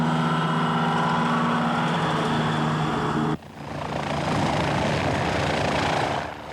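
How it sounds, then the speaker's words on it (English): Surveillance helicopters circle over Halifax during the 1995 summit. Their rotors and engines make a loud, continuous drone that fills the air, breaks off briefly partway through and then resumes just as strongly. "Surveillance helicopters are keeping a close eye on the entire city."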